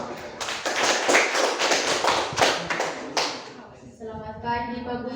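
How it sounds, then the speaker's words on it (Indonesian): A small classroom group gives quick applause for the presenting students: a brief, close burst of hand clapping, followed by voices beginning to speak. "Tepuk tangan buat mereka semua."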